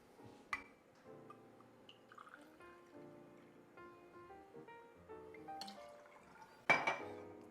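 Aperol being poured into a glass for a spritz, a soft trickling liquid stream with faint glassy clinks and a sharper clink near the end, quiet and close with no talking.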